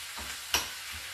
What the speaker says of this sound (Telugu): ఆవాలు జీలకర్ర ఎండుమిర్చి కరివేపాకు వేసి బాగా వేయించేసి అప్పుడు ఉల్లిపాయ పచ్చిమిరపకాయ కూడా వేసి